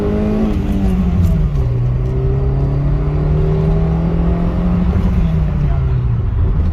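A 2009 Honda City's engine revs hard under full throttle, a loud steady drone climbing in pitch, easing slightly, then rising again as the car accelerates.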